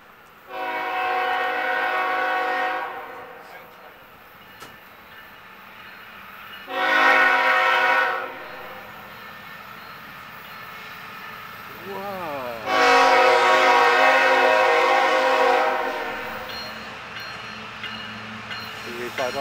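A Citirail locomotive hauling a loaded ethanol freight train through Ridgefield Park sounds its horn in three loud, sustained blasts, the last one longest, over a low rumble of passing rail cars.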